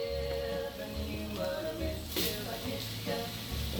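Steady sizzle of beef burgers frying on a hot barbecue grill, a continuous crackling hiss with a low background hum.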